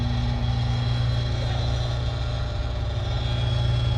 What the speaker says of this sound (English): Now he's airing it up so it can seat.